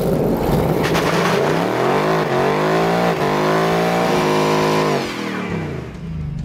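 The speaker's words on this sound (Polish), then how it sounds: "Dźwięk V8." A new Ford Mustang's V8 engine with an active exhaust revs hard and loud up close, its pitch climbing and falling in repeated surges before easing off toward the end.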